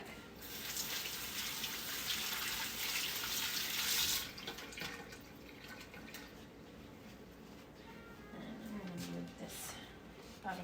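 Hands being rinsed under a running kitchen tap while making sauerkraut, a steady hiss of water for about four seconds, then quieter splashes and handling sounds, with a person talking faintly.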